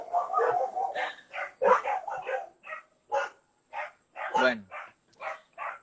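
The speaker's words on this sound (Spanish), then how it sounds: "hay unos perros por ahí, dame un momentito. Se están cabreando" Dogs bark in short, separate bursts nearby, roughly a dozen sharp yaps spread unevenly, with a voice speaking briefly at the start.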